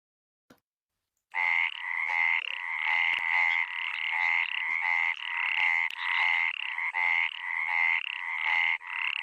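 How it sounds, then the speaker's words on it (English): Indian burrowing frog giving a loud, rapid series of rhythmic pulsed croaks that run steadily for about eight seconds, close to the microphone with no voices. "The next one, Indian burrowing frog."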